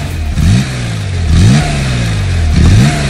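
A Porsche Carrera RS 2.7 engine revs sharply three times, each blip rising quickly then falling back to a steady, throaty idle, loud and close.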